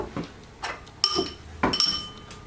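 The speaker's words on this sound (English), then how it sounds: "So you just want to put a few spoons of yoghurt in" Yoghurt is spooned into a bowl for raita, giving a few sharp ringing clinks of a spoon against the bowl with soft scraping between them, close and clear with no talk.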